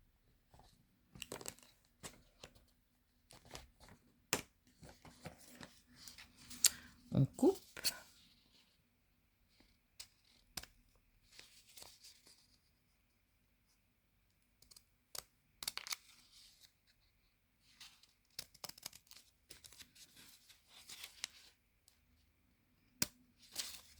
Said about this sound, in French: j'ai pas les bons ciseaux parce qu'il est un peu grand